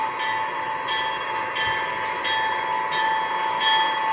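A model railroad locomotive bell rings steadily at an even pace, with bright repeated strikes about every two-thirds of a second over a constant background hum.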